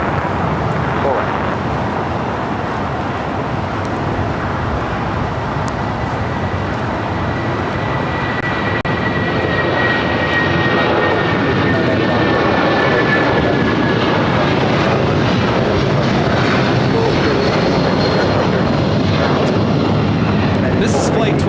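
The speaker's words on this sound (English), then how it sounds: "United 757-300 rolling down the 25 right" A United Boeing 757-300 takes off down runway 25 right at LAX, a broad jet roar building steadily as it rolls, heard from a distance with people talking nearby.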